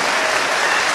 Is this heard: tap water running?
no